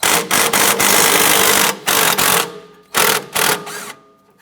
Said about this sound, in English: I'm going to use a 17mm socket. And we're going to remove our nut on the bottom of our strut bolt here.